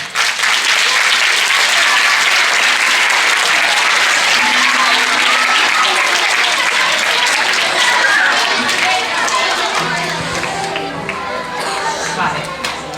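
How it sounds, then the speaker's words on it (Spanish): Loud, dense applause from a crowd at a school Book Day event where the mayor joins a Harry Potter reading, sustained and steady throughout and tapering slightly toward the end. "vamos a darle un fuerte aplauso a él"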